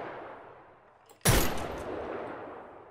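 A single pirate gun shot goes off in the Minecraft Pirates and Looters mod, a sharp loud blast standing out against quiet ambience and fading over a second or so.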